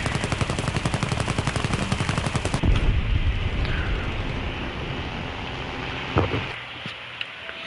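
Automatic gunfire in the War Thunder combat game, a fast regular burst of loud close shots that stops abruptly, followed by mechanical rattling and creaking with a lone sharp bang near the end.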